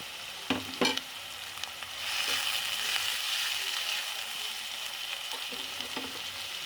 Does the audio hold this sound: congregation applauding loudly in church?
no